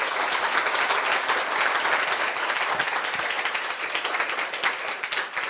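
Dense, sustained applause from a church congregation during a sermon, many hands clapping together at a steady level for several seconds, with no talk over it.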